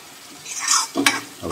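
A spoon scrapes through a pan of masala with garam masala and Kashmiri chilli as it sizzles, giving a few brief, close stirring swishes and scrapes over a soft fry hiss.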